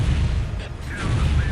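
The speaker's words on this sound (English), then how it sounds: "we've now got plasma cannons to deal with" Plasma cannons fire in the Warhammer 40,000 strategy game Dawn of War Ultimate Apocalypse, a dense wall of deep, rumbling booms with a few faint higher whistles mixed in.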